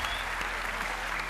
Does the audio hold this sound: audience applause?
yes